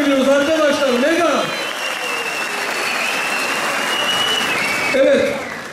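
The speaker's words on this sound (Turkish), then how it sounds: "Metroya bu kadar mı alkış?" Dense applause from a crowd at a political rally in Silivri, loud and steady for several seconds, with a speaker's amplified voice heard over it at the start and end.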